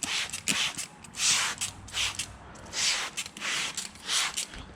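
Window-tint prep solution is sprayed onto a car window in a series of bright hissing bursts from a trigger bottle, about seven short sprays in an uneven rhythm, close and alone.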